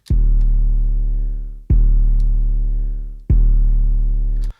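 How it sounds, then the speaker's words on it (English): Three deep, booming 808 bass hits, each sustained and slowly decaying, played one after another with a short click on each attack. "The next sound that I want to test is only a one shot from the 808."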